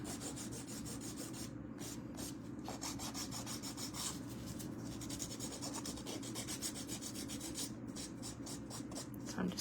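A nail file rasps back and forth in quick, steady strokes while shaping the edges of fingernails, close and continuous with no talking over it.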